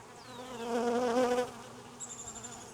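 Honeybees buzz densely around an open hive box during a virgin queen installation, a loud swelling drone that peaks midway, then eases off while a thinner high whine carries on near the end.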